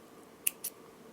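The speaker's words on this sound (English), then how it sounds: "Now that I have made a few knots, I will cut the thread" Scissors snip through jewelry thread after knotting, giving two short, crisp clicks close by against a quiet room.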